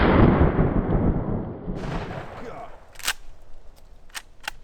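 A shotgun fires 3-inch shells into a pumpkin outdoors: a loud blast whose broadband roar fades over a couple of seconds, followed by a few sharp, isolated cracks.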